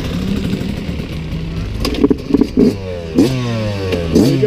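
A Yamaha YZ125X two-stroke dirt bike at a motocross track, idling close by and then revving in sharp bursts as it pulls away, the engine note climbing through a few quick gear changes.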